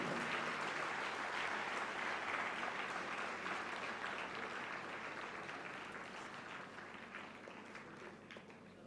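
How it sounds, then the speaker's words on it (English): Audience at a conference session applauding a speaker, a broad, continuous wash of clapping that slowly tapers in loudness across several seconds, heard from a distance and fairly faint. "Can we have a big round of applause for Shirley"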